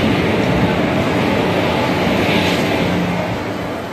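A train at Kacheguda railway station gives a steady, loud, broadband rumble and whoosh that fades slightly toward the end, with no talking.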